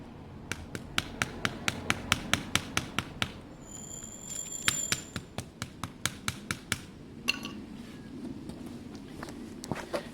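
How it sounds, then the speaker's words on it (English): A hammer-like persuasion tool delivers light taps to reshape the carburettor lip of a Kawasaki ZL600: a close series of crisp, evenly paced metallic knocks, a brief pause, then more spaced taps. "using a specialist persuasion tool, you can just take away the lip. You can make it more oblong with very light taps"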